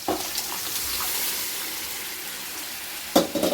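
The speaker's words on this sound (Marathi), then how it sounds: "आता याच्यात आपण सगळी ही शिजलेली भाजी टाकून घेणार आहोत" Cooked spinach (palak bhaji) dropped into a hot oil tempering gives a steady close sizzle and crackle, with a brief burst of louder stirring and clattering near the end.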